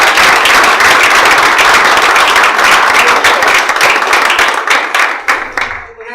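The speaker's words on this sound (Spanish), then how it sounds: "Un gran aplauso para nuestra." Loud audience applause closing a workshop session at a film festival, dense sustained clapping from a crowd that thins out and fades over the last couple of seconds.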